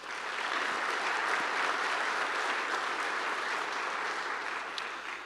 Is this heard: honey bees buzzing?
no